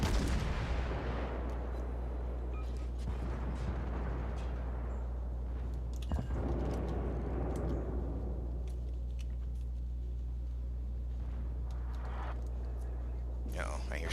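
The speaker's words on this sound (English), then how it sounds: "Uh-oh, I hear shells coming in." Incoming artillery shells land in a naval battle video game, heavy booming impacts over a constant low engine drone, with a few more distant hits and people talking throughout.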